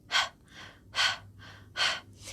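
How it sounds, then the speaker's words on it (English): Panting breaths pushed out through the mouth in a breathing exercise, three strong rhythmic exhales alternating with softer inhales, close and alone with no talking. "it's easier to do somewhat of a panting out of the mouth. And each time you pant out, the navel draws in a strong motion."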